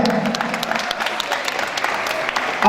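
A wedding crowd claps together in a sustained burst of applause for a war hero, dense and fairly close, lasting throughout.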